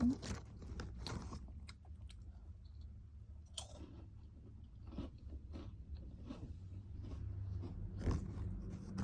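Snack crackers or chips being bitten and chewed up close, with soft crunching and clicks recurring throughout, fairly quiet, before a meal with coffee.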